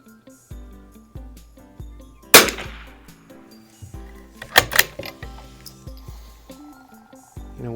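A MAS model 45 .22 LR French military training rifle fires a series of sharp, short shots at a slow, regular pace. One or two sharper cracks stand out, and a low musical tone plays underneath.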